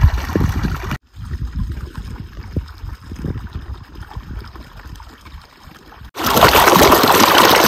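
Irrigation water flows into a summer groundnut field, a low, uneven gurgle and churn of running water close by, ending in a louder rushing burst.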